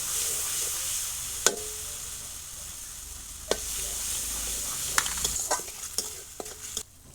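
Cumin paste and moong dal frying in a pan make a soft steady sizzle, broken by a few sharp clinks and scrapes of a spoon that come more often toward the end.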